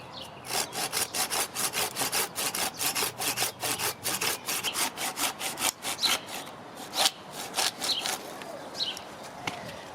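A hand saw cuts a round off a piece of resinous fatwood, fast steady back-and-forth strokes rasping close and loud, slowing and turning uneven near the end.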